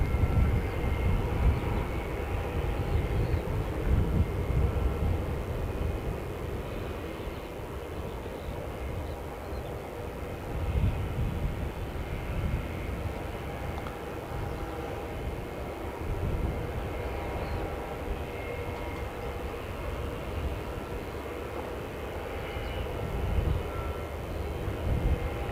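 A Jetstar airliner on flight 228 from Christchurch to Auckland passes with a sustained, loud engine roar and low rumble that swells and eases gently, heard from outdoors without talk.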